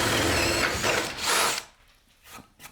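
A power drill fitted with a 20mm Bosch bit bores loudly through plasterboard for just over a second and a half, then cuts out, leaving a couple of faint knocks.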